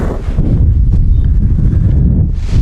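Heavy wind at an outdoor riding arena buffets the microphone with deep, rumbling gusts, loud and continuous, with no speech.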